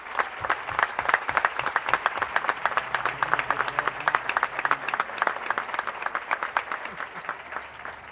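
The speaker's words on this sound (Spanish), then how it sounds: "el primer aplauso de la tarde de hoy" Sustained audience applause at an academic year closing ceremony, many hands clapping with crisp distinct claps in a steady, lively rhythm that continues for the whole stretch and eases slightly at the end.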